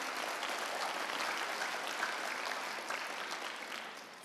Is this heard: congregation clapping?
yes